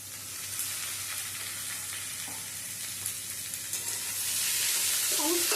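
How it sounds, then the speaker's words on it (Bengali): Eggplant with chopped green and red capsicum sizzles steadily in hot oil for a Bengali chorchori, a continuous broadband fry hiss with occasional stirring clicks that rises slightly in loudness toward the end; no voices. "সমস্ত সবজিগুলোকে প্রথমে ভালো করে ভেজে নিতে হবে"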